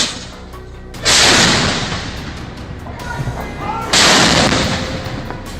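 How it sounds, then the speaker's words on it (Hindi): An ATAGS artillery gun fires a salute at the Red Fort: two loud, heavy blasts a few seconds apart, each with a sharp onset and a long rumbling decay, with a voice speaking throughout. "आजादी के बाद पहली बार हिंदुस्तानी तोप से, हिंदुस्तानी गोले से लाल किले पर ऐसे सलामी दी जाएगी।"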